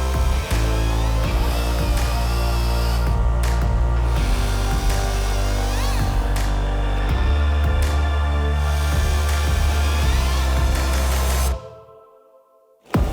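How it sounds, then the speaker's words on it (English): A Stihl MS151T chainsaw running an OREGON SpeedCut Nano chain cuts through wood, a loud continuous high-revving buzz with brief dips in pitch and load, then cutting out abruptly near the end before a short restart. "With SpeedCut Nano on my MS151T, the chain doesn't block."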